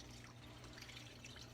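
Water is poured into gravy in a pan, giving a brief, soft, continuous trickling and splashing sound, faint and close, with no talking.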